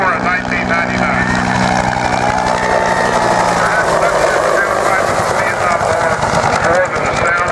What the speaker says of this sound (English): An entire generation remembers the Huey's distinctive sound.